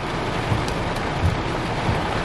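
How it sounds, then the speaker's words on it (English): Strong wind from a December cold core storm's inflow band roars as a steady, loud, broadband rush, with a few brief gusty swells and no voices. "It got really windy here."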